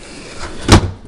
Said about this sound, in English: Before the door was keeping open like this, now it is snapping shut.